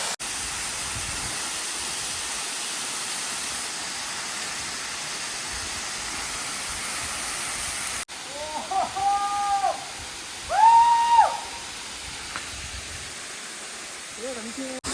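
A hidden waterfall in Jibhi, Himachal, reached on a forest trek, roars as a steady, loud, close wash of water noise; midway people start talking over the continuing rush.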